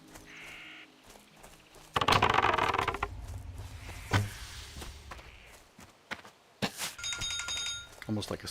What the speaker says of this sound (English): That's my bread alarm.